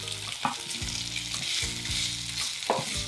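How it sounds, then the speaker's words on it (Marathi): Boiled potato pieces sauté in chili thecha in a pan with a steady close sizzle, broken by repeated scraping stir strokes of a spoon in a regular rhythm, with no talk. "हा ठेचा छान परतून झाला की यामध्ये उकडलेल्या बटाट्याच्या फोडी घालायचं"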